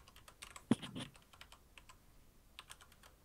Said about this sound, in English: My mic is in the way of the keyboard.